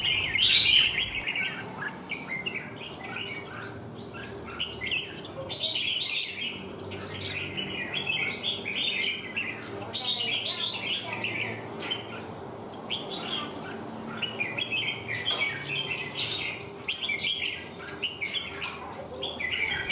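A red-whiskered bulbul, a moulting caged songbird, sings repeated bright chirping phrases close by for the whole stretch, with a faint low hum underneath.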